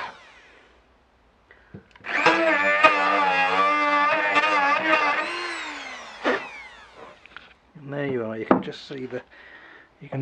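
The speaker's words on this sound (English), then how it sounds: "let's have a go at this one with the Dremel" A Dremel rotary tool whines steadily for several seconds as it cuts at a decking screw, then stops, followed by short clicks and scraping as the work is handled.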